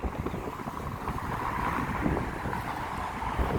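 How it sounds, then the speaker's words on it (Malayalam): Cool wind blowing outdoors in Doha, Qatar, a steady rushing roar buffeting the microphone throughout, with no voices. "നല്ല കാറ്റുണ്ട്, നല്ല തണുത്ത കാറ്റാണ്"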